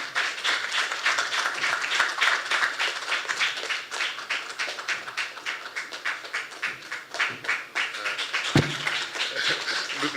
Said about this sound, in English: warmly welcome to the stage with a rolling and lasting round of applause